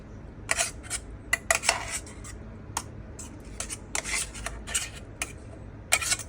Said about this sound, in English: And then kind of smash this down to get all the extra pepper juices